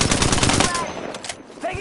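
Sustained automatic gunfire from a video game arena shooter, loud rapid bursts filling the first part and then thinning into scattered shots and effects, with a faint voice underneath.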